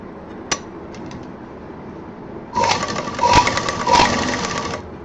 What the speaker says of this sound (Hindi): हमें यहाँ से मशीन गोलाई से चलानी है